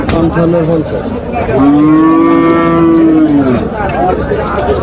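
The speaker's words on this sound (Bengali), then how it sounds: "আরো প্রচুর পরিমাণে ষাঁড় গরু আছে এদিকে রাখা" A bull lets out a long, loud moo lasting a couple of seconds at a cattle market in Faridpur, Bangladesh, over a busy background of distant chatter and animal noise.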